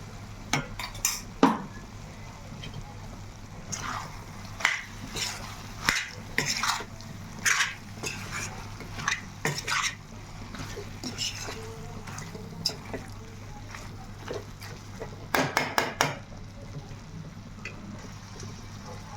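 A spoon stirring a spiced chicken fry with green chillies, coriander powder and garam masala in a pan, with repeated scraping and clinks of metal against the pan and a soft sizzle underneath, faint talk in places.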